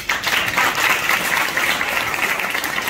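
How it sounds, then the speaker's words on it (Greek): Audience applause for a young girl receiving an award at a festive lunch, a dense, loud burst of many hands clapping together, steady throughout without talking. "το οποίο χρειάζεται ένα μεγάλο χειροκρότημα από όλους σας."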